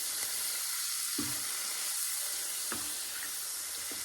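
Bacon and roast beef sizzling in a frying pan, a constant close frying hiss with a few scraping stirs of the spoon landing at roughly regular intervals.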